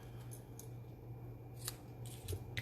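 Several quiet scissor snips cutting ribbon, spaced irregularly, over a steady low hum in a calm room.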